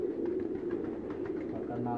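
Pigeons on a Faisalabad rooftop coo softly in a low, steady murmur, close but quiet, with faint background noise throughout.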